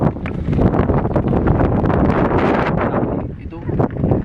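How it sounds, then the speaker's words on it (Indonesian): Strong wind on the summit of Mount Ungaran: loud, continuous roaring gusts buffet the microphone with a heavy low rumble throughout, easing slightly near the end. "Anginnya kencang"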